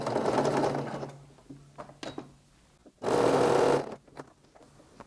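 A sewing machine stitches lycra shapewear in short close bursts: a steady mechanical whir at the start, brief stops with small clicks and handling noise, then another solid run of stitching.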